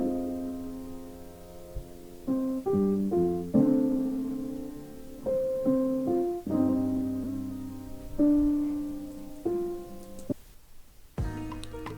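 Jazz piano sample processed with an Eventide H3000 texture plugin and a Waves cassette effect, giving an old vinyl feel; chords and melody notes arrive in a steady, moderately loud sequence with no voices, ending on a brief pause and a final struck note.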